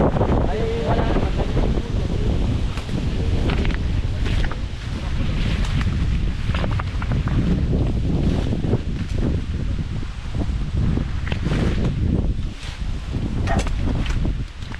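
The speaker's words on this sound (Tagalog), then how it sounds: "napakalakas ng hangin kasi hindi natin alam, baka may bagyo" Strong outdoor wind buffets the microphone in steady, loud gusts for the whole stretch, with rustling and a few faint bursts of voice beneath the roar, amid talk of a possible typhoon.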